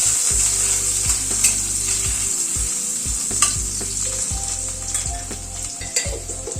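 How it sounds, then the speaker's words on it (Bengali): Paneer frying in hot oil in a pan, a steady loud sizzle with repeated stirring scrapes at a regular rhythm, close up and alone with no voices. "পনিরটা দিয়ে একটু হালকা করে ভেজে তুলে নেব।"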